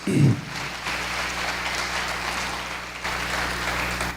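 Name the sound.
applause in church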